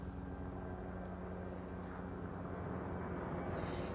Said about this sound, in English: You hear the helicopter going around.